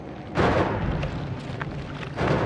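A booming explosion in the Noita video game bursts in loudly, then its rumbling, crackling tail rolls on for about two seconds, with no voices over it.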